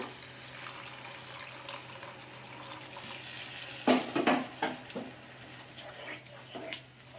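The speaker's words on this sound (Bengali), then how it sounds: "এবার আমি দিয়ে দেবো অল্প জল বেশি জল দেব না" A little water poured into a pan of tofu and peas being cooked for a tofu masala: a brief splashing pour midway over a quiet kitchen hiss, then a few smaller splashes and clatter.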